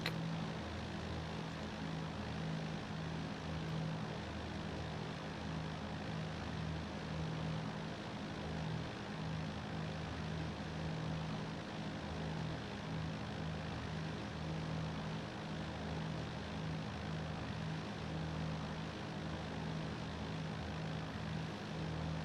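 Steady, droning twin propeller engines of a Britten-Norman BN-2A Islander in X-Plane 12 cruise on a Solomon Islands hop, a continuous even hum with a strong low tone and no voices over it.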